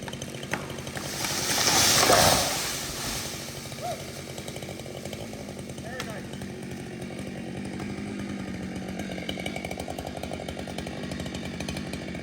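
A chainsaw runs steadily while cutting down a hardwood tree, with a buzzing engine drone that swells louder for a moment early on and then settles into an even, continuous whine with no talk.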